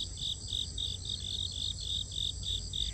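Crickets chirp in a steady, evenly spaced pulsing trill on a grassy lawn, fairly close and continuous, with no voices.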